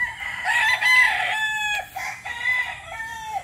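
A Boston Black rooster crows near and loud, a drawn-out cock-a-doodle-doo with wavering calls that rise and fall over a few seconds.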